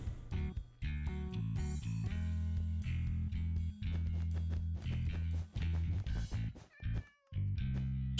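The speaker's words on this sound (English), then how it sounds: "I hear a cat. Is there another cat stuck in here?" A cat meows several times inside a video game, short tonal cries over a steady loud low droning background of game music or noise, with brief gaps in between.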